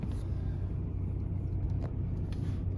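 Car engine idling on a cold morning after sitting all night, a steady low rumbling drone held close and even throughout, with faint clicks and no speech.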